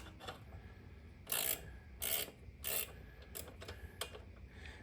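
Ratchet wrench loosening the right-side chain adjuster on a Kawasaki Ninja 250 rear wheel: several short, crisp bursts of clicking, three louder ones in the middle and fainter ones around them, heard up close with no talking.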